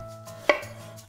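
One crisp knife cut through an apple on a cutting board while slicing it into wedges, a single sharp close thunk over a quiet kitchen background, with no talking.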